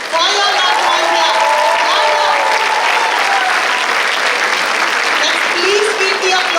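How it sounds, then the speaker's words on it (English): Loud, sustained applause from a large audience at a school graduation ceremony, continuous dense clapping with some crowd noise throughout, no break. "let's hear a loud round of applause for your loved ones here."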